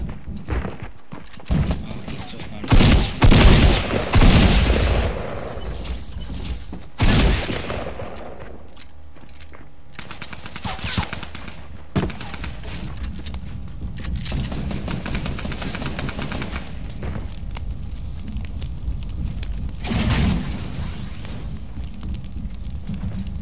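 Shotgun blasts in a solo-versus-duos video game match come as several loud, sharp bursts clustered early and again near the end, with quieter in-game rumble and scattered clatter between them.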